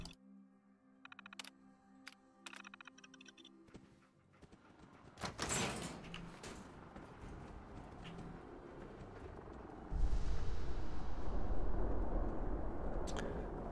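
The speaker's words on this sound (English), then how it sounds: "But let's open the door." A door in Fallout 4 grinds open with mechanical clanks and a long rumbling slide, followed by a loud, steady roar of a nuclear storm outside, no talking.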